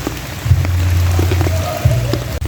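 Rain pattering steadily on a surface during a fishing trip, a continuous close hiss with a low droning hum underneath and faint background sounds.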